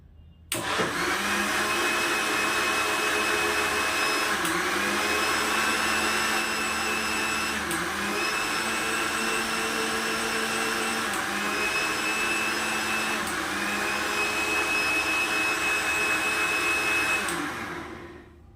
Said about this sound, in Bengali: এবার মিক্সারে বানিয়ে নেবো